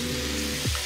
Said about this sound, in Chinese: 继续煸炒。